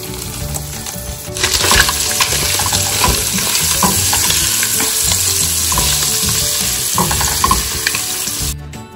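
Food frying loudly in a pan at home, a dense continuous sizzle with scattered clinks and stirring scrapes running nearly nine seconds without speech.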